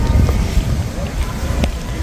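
Outdoor wind buffets the microphone on a walk through Osaka, a loud low rumble with gusty swells, and people talk in the background.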